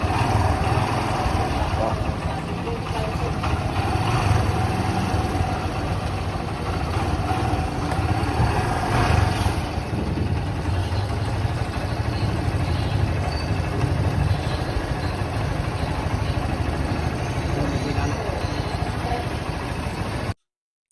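A motorcycle engine, just repaired, idles steadily and close by for the whole stretch, a low continuous mechanical rumble with no voices over it.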